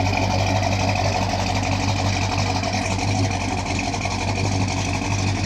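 Car engines idling and rumbling as cars arrive at a cruise-in car show at an ice cream stand, a steady, fairly close low engine drone that holds through the whole stretch without talk.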